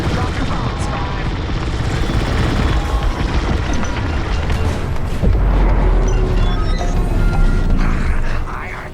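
Bombs detonating in the Star Wars: Squadrons space-combat game, a dense rolling roar of booms and rumbling blasts layered over engine drone, loud and continuous with a heavier burst midway.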